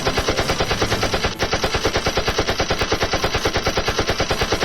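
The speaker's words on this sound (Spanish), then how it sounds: "con su poderosa ametralladora se enfrenta a los enemigos" Machine gun firing a long, rapid, evenly spaced burst, loud and continuous with only a brief dip partway through, no talking.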